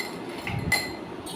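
A couple of light glassy clinks of ice cubes dropping into a glass for an orange mojito, close by against a steady background hiss.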